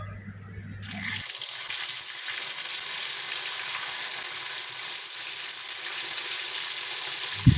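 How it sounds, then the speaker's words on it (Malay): Fish sizzles and crackles steadily in hot oil, a continuous frying hiss that stays even from start to finish. "Panaskan minyak, goreng ikan."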